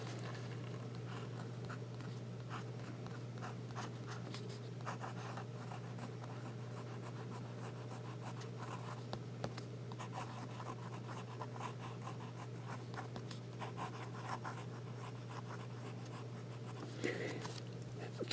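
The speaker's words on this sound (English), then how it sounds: "let's do a little bit of writing with the pen" An extra fine nib Wing Song fountain pen writes on paper with soft, faint scratching strokes over a steady low hum, close and quiet throughout.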